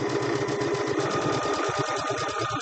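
A Gemini sewing machine stitches fabric for a log cabin quilt block, a rapid even mechanical chatter running steadily throughout, close and clear with no talk.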